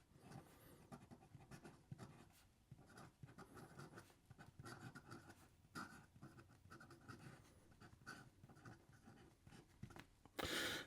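A fountain pen with an 18 karat gold nib and noticeable feedback scratches across paper, producing faint, continuous rustling strokes in bursts with short pauses, close up and quiet, with no talking.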